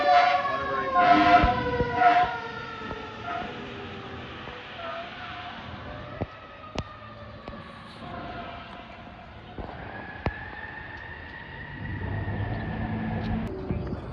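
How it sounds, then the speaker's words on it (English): A fire truck siren wails as it passes a railroad station in Waterbury, Connecticut, its rising and falling tones fairly loud at first, then fading to a distant whine with a few sharp clanks and a low rumble. "Here goes the fire truck."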